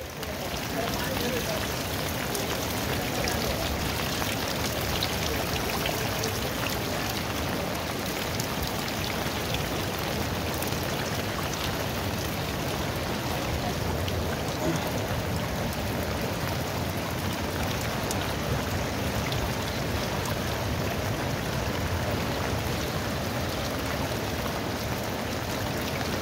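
Torrential monsoon rain pours over Kathmandu during severe flooding, a dense, steady hiss of heavy drops on surfaces lasting the whole stretch, loud and close, with people talking faintly underneath.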